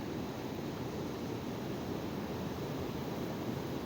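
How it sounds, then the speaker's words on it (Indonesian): Waves break steadily at a surf spot off Simeulue, heard as a continuous, fairly faint wash of surf with no voices. "mereka terhantam ombak teman-teman ya"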